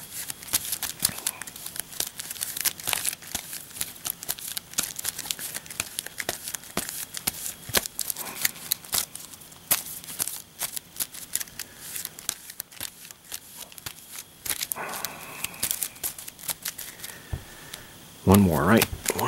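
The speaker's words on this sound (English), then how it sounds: "So, shuffle time." A deck of cards for the Marvel Legendary board game is shuffled at a table, dense rapid riffling and crinkly card slaps going on for many seconds, close and crisp, with a louder burst near the end.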